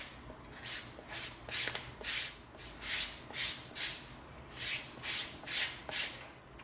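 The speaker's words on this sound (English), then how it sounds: "let's come in with our 220 sanding stick" Steady back-and-forth rasping of a 220-grit sanding stick on EVA foam, about a dozen even strokes in a regular rhythm, close up.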